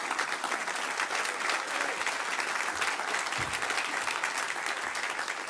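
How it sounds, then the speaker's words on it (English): Loud, continuous applause from diners at an architecture awards dinner, a steady wash of many hands clapping with no pause. "Can we have a round of applause"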